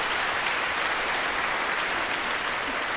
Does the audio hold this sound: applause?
yes